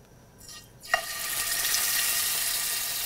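Oil in a frying pan for frying chicken breast pieces bursts into loud, steady sizzling after a faint clink, then holds a bright, continuous hiss to the end.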